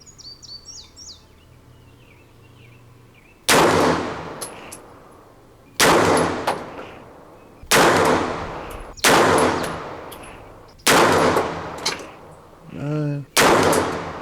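Six sharp, loud gunshots from a DEFGUNZ Alpha 9 Plus 9mm pistol-caliber carbine crack at irregular intervals of about one to two seconds outdoors, each echoing briefly, with birds chirping faintly in the background.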